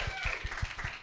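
Scattered applause from a panel audience, a few distinct claps in a loose rhythm, moderately close, with faint voices underneath.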